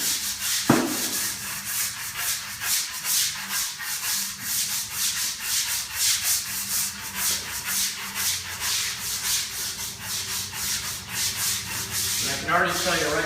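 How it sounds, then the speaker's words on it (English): A stiff bristle brush is scrubbed hard across a concrete garage floor being etched for an epoxy coating, giving a steady, continuous rasping rub at close range with rhythmic strokes and no talking. "you want to take your bristle brush, and you want to be real aggressive"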